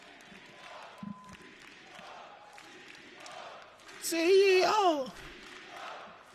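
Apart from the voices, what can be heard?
crowd cheering at an Apex Legends esports event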